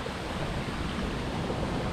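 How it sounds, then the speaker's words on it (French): Forest stream flowing near a walking trail, a dense, steady rushing of water at close range, continuous broadband burble without pauses or voices. "il y a un ruisseau là"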